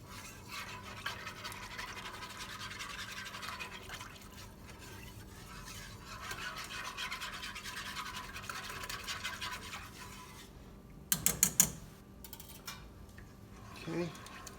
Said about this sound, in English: little whisk to just get that flour broke up so it mixes into our milk.